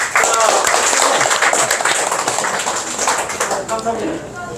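Audience applause at a Korean fisheries cooperative alumni association autumn gathering, a dense steady patter of many hands sustained for several seconds and gradually thinning, with some voices and laughter mixed in.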